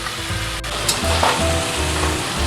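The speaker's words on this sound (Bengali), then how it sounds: "সর্ষে বাটাটা একটু নাড়াচাড়া করে একটু মিশিয়ে দিলাম ভালো করে" Mustard paste is stirred into mixed vegetables frying in a pan for chochchori, a loud steady sizzle with soft scraping strokes, close by and without speech.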